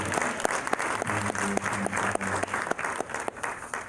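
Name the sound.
applause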